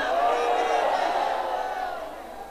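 A large crowd at a PML-N political rally (jalsa) answers back in one loud, sustained roar of voices that slowly fades over a couple of seconds.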